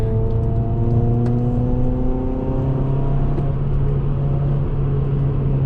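A 2007 Honda Civic Type-R accelerates through the gears, its engine note rising steadily with a strong low drone and climbing harmonics, heard from inside the car with no talk.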